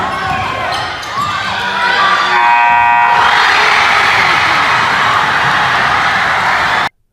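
A high school basketball crowd erupts after a tying-game buzzer beater from long range, a loud sustained roar of cheering that follows a short buzzer tone and runs for several seconds before cutting off abruptly.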